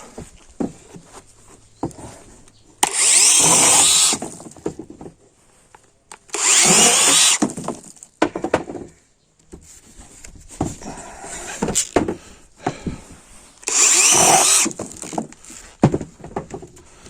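An electric pole saw attachment on a trimmer cuts through branches in three loud bursts of rasping, buzzy noise, separated by quieter rustling and handling sounds.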